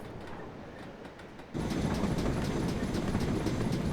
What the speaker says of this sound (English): Again, it's a tank locomotive.